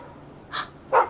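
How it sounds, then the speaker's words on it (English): An electronic toy puzzle sounds two quick, small dog barks in succession, thin and clear with no talking over them. "Woof, woof, woof, woof. I think you might be right. Open. It's dogs."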